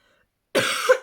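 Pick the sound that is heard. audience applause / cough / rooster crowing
cough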